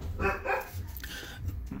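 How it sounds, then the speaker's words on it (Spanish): A small pet husky dog indoors barks two or three times in quick succession, fairly close, sharp yips between quieter moments, no speech over it. "Disculpen a mi perrita, ¿sí? Husky, ya calla."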